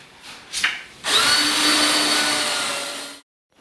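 A power drill whirs steadily for about two seconds, loud and close, after a couple of brief bumps, then stops abruptly, pre-drilling holes in a kitchen cabinet during installation.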